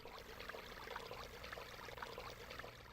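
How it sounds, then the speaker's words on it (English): In the video game Chulip, a stone lion gargoyle spits out a steady stream of water, heard as a faint, continuous pouring splash with slight rhythmic surges and no voices. "he just barfs out water"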